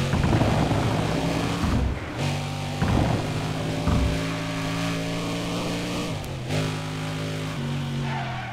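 A sports car engine in the video game Need for Speed World revs and shifts repeatedly, rising and dropping in pitch with steady rhythm, loud and close, no speech.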